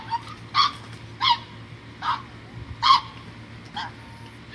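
A dog barks several times in short separate bursts spaced about a second apart, fairly close, over a low steady background hum.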